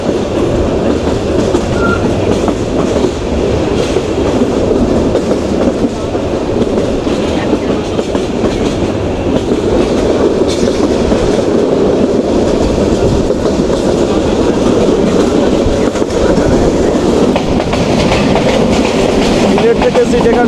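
The Paharika Express running from Sylhet to Chittagong in Bangladesh, heard from on board as a loud, continuous rumble with rhythmic wheel clatter and faint voices beneath.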